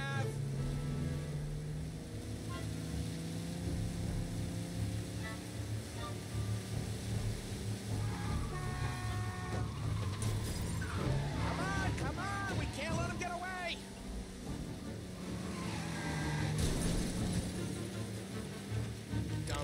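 A car engine drones and whines through a high-speed chase in the video game Mafia, with shifting pitch and tyre squeals partway through, and someone talking over it.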